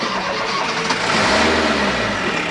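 A 1995-era car engine cranks and catches after a failed first attempt, then runs with a rough, moderately loud mid-pitched drone and a rising low rumble as it revs.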